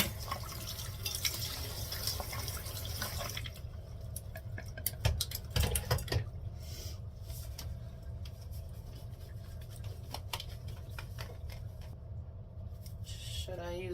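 Water runs and splashes steadily over a surface before it is scrubbed with Comet cleanser and a rechargeable spin brush, making a continuous close wash of noise broken by a few brief clicks.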